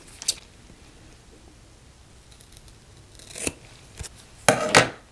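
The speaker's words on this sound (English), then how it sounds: "I'm gonna have to trim the corners" Scissors trim the corners of a notebook cover, a handful of crisp, close snips separated by quiet pauses, grouped toward the end.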